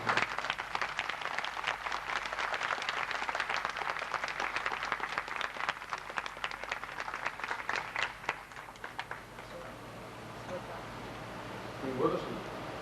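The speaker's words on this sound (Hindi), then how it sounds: "उसके लिए जोर से आप तालियां बजाएंगे" An audience at a 1998 marriage anniversary ceremony claps loudly in a dense, sustained burst for about nine seconds, then the applause thins out and fades, leaving a few scattered sounds near the end.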